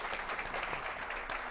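An audience at an entrepreneurship panel applauds a panelist, a brief, steady patter of many hands clapping at moderate volume with no voices over it.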